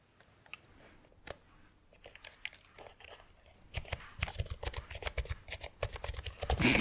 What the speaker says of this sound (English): She could be typing a little faster.